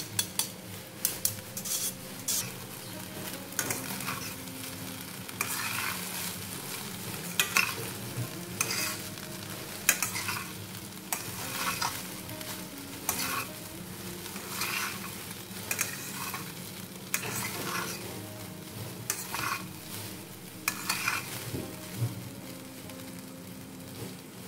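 Paneer fried rice stirred in a sizzling pan, with repeated scraping and clinking strokes of a utensil against the metal over a constant soft frying hiss, close and moderately quiet, with no talk.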